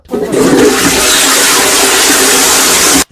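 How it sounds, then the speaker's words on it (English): A powerful toilet flush roars loud and close, a sudden surging rush of water that holds steady for about three seconds and then cuts off abruptly, with no talking. "That was a power flush."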